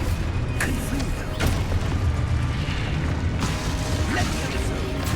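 Confringo blasting spells hit in Hogwarts Legacy, with several sharp booms and bursts over a busy rumble of combat effects and mechanical clatter, with a voice speaking between them.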